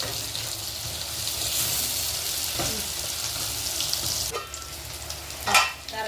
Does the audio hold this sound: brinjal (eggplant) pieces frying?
yes